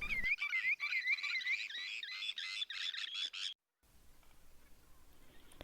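Shorebirds such as sandpipers, yellowlegs and gulls call at a bay shoreline with a run of repeated, fairly loud cries, then a quiet stretch of faint background ambience.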